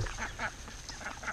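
A Pekin duck among a flock of ducks, mostly Indian runner types, at a creek, quacking in repeated bursts with several birds calling close by.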